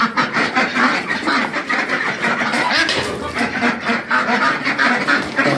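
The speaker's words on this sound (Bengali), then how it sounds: "এই যে দেখুন হাঁস" Ducks on a farm keep up a busy, overlapping chorus of quacks, close and steady, with some background voices mixed in.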